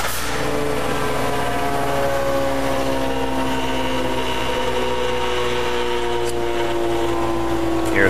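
A Model 5RP granite coring machine raises its spindle after cutting through granite, giving a steady whining, droning motor hum with sustained tones at a constant loud level.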